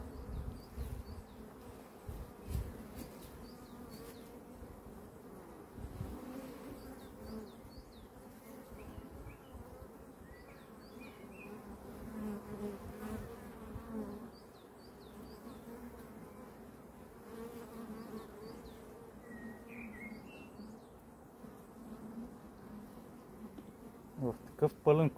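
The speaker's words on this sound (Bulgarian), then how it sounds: "Такъв пълен кошер с пчели ще бъде малко трудна задача намирането" Honey bees in a full top bar hive near the Iskar reservoir in May give a steady, dense buzzing hum throughout, with a few louder knocks at the very end.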